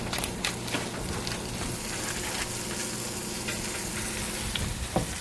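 Butter melts in a pan with a continuous, crackling sizzle close by, along with a few faint taps and pops scattered through it. Nobody talks.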